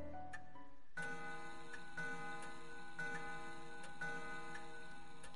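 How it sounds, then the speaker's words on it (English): A clock in the video game Death Mark ticks steadily about once a second, joined by a sustained ringing chime that starts after the first second and hangs over the regular ticks. "The clock begins to chime."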